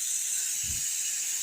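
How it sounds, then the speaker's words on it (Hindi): A pressure cooker on a home stove vents steam in a steady, loud, high hiss that runs unbroken throughout, with a brief low thump partway through. "हो सकता है कि कुकर की सीटी की आवाज़ वीडियो में आए क्योंकि हम खाना बना रहे हैं"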